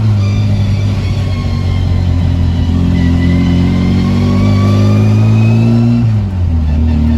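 A Mini 1275 LS with a straight-cut gearbox drives along, its engine droning loud and close with a whining gear note that rises steadily, then dips briefly with a double-clutched shift near the end.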